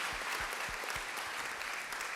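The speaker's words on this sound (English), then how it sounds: "I want to thank everyone for staying to the end, and another round of applause" Audience applause closing a plenary session at an academic conference, dense steady clapping filling the whole stretch at even loudness, with no voices over it.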